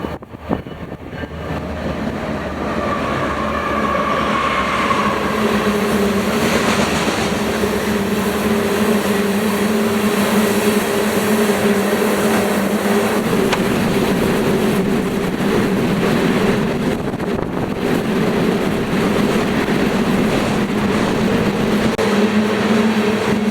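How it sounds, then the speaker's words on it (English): A BNSF rock train led by locomotive BNSF 7494 rolls past West Corona station, a loud continuous rumble with rail squeal and clatter that stays steady for over twenty seconds. "I was jump scared by a BNSF rock train with BNSF 7494 leading"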